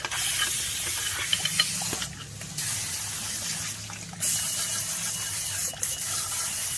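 A steady water spray hisses while rinsing suds off a Suzuki Jimny, with short breaks as the stream pauses and resumes, close and continuous.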